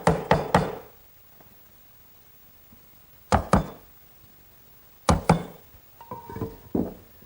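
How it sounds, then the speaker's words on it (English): A 3/4 inch wood chisel is struck to chop out mortise corners, giving sharp, close knocks in quick clusters of two or three, separated by quiet pauses, with a lighter tap-and-scrape near the end. "I'll chisel out the remaining corners"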